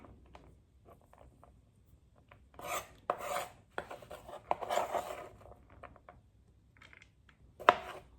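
A kitchen knife slices tomatoes in half on a board, several short quiet cuts and scraping taps scattered over near-silence, without talk.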